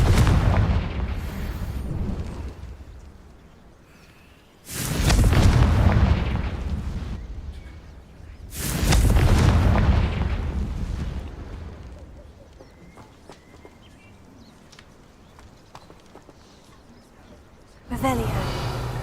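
Confringo blasting spells burst in Hogwarts Legacy, two large booming explosions that roar and slowly fade, followed by quieter rumble and a third sharp blast at the end.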